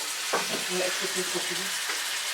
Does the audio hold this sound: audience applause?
no